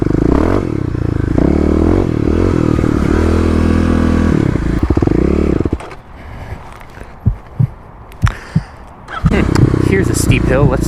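Kawasaki KLX351 dirt bike climbing a steep hill, engine revving and labouring loudly with wavering pitch, then cutting out into clattering knocks and scrapes, with a person speaking over it.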